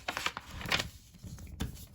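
A square sheet of origami paper being folded by hand for a paper crane, giving soft crinkling rubs and papery creases in several short bursts, close and fairly quiet, with no talk.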